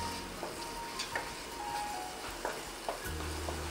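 Spinach kofta gravy ingredients are stirred and mixed in a pan, with soft scrapes and light clinks of a spoon at irregular intervals over a low, quiet sizzle.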